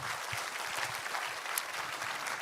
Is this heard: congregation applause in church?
yes